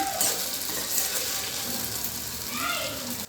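Okra (bendakaya) frying in a pan, a steady close sizzle and crackle of oil throughout, with light stirring scrapes and a faint voice in the background.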